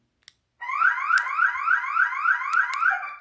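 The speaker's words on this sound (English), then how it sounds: "in case somebody break in, you want the alarm to go off, you just press and hold it down" KERUI PIR wireless alarm system siren sounding, a loud rising, repeating electronic whoop that starts abruptly after a click and continues steadily with no voices.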